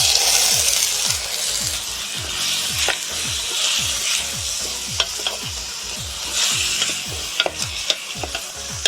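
Pork meat frying with garlic in a hot pan, steady sizzle broken by a quick repeating run of scraping stirs from a utensil, close and fairly loud.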